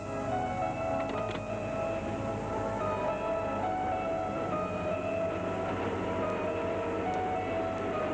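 Train passing on a railway line at a mountain station, a dense continuous rolling rumble with metallic clatter and steady loudness throughout, no voices over it.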